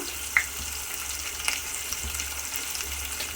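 Green chillies frying in hot oil with onions and tempering spices for a drumstick and tomato curry give a steady, close sizzle throughout, marked by a couple of small sharp crackles, with no talking.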